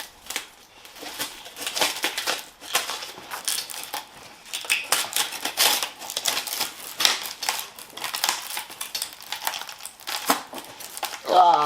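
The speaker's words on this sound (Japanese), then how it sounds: "FRP 固まったんで剥がしていきます" Cured FRP fiberglass is peeled away from masking tape on the front bumper of a Mazda RX-7 FD3S under restoration, giving a continuous close run of crackling, crinkling and tearing with uneven bursts.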